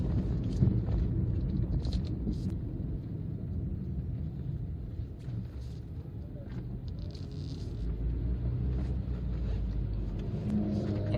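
A 1993 Ford Escort 1.6 LX Mark 5 hatchback being driven gives a steady engine drone and road rumble from inside the cabin, with a slight rise in revs toward the end, and no one speaking.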